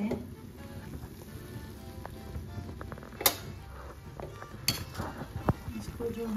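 Egg dum biryani served out of the pot, with scattered clinks and scrapes of a spoon against metal over a faint background hiss.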